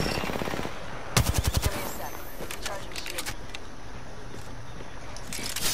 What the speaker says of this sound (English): I'm under fire. Fire.